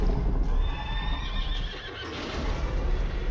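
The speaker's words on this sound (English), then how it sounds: "A horse screams in the distance." A horse's shrill neigh rings out across a misty setting, the whinny wavering over a low ambient rumble with faint hoof-like thuds, fairly clear and alone without speech.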